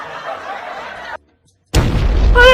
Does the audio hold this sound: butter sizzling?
no